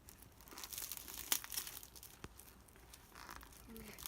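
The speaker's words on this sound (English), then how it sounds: "You open the tape." Packing tape being torn and crinkled open on a mailed children's clothing package, giving short ripping and crackling plastic bursts at close range. Brief voices murmur in the background.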